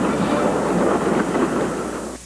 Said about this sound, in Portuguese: o trem atravessa os espetaculares viadutos Rock Shields e Broad Sands